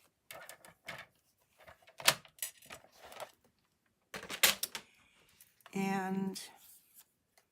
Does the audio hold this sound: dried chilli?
no